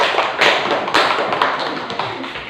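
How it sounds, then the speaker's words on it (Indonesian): A classroom of students claps after a group's presentation, a brief ragged burst of close, sharp hand claps that tapers off quickly. "Tepuk tangan."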